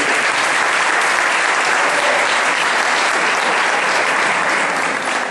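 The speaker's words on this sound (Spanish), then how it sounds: "Un aplauso, por favor." A crowd at a fan gathering applauds continuously, a thick even wash of clapping that holds at one loud level throughout without talk.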